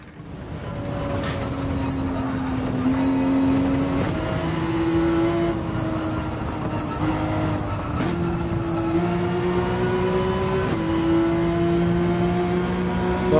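Race car engine in Gran Turismo 7 climbing and shifting through gears as it accelerates through an S-bend, loud and continuous with rising harmonic whine and steady throttle, no talking.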